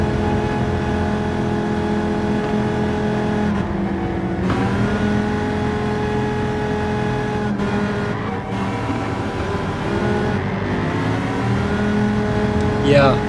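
A race car engine in a VR racing game on a rainy track gives a steady, droning tone that shifts in pitch as it revs, running under ongoing conversation between players.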